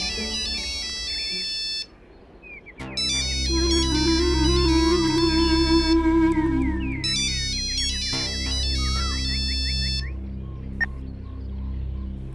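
A mobile phone ringtone signals an incoming call, a bright synthetic melody with electronic tones that plays in bursts and pauses, loud and close, with no talking.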